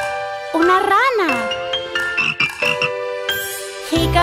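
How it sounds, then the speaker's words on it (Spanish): A cartoon frog croaks in a Spanish-language children's nursery song, with a loud, bouncy croak set over bright music, chimes and sung voices. "¡Una rana!"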